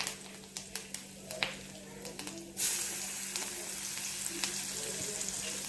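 Onion goes into a pan already holding asafoetida, bay leaf and curry leaves: a few soft clicks and taps, then a sudden quiet, steady sizzle that continues to the end.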